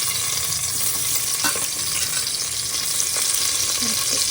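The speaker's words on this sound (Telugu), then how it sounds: "ఇప్పుడు ఉల్లిపాయలు పచ్చిమిర్చి వేయాలి." Onions and green chillies fry in oil and ghee for Telangana-style bagara rice, giving a steady, dense sizzle with a few soft scraping stirs, close and continuous with no voices.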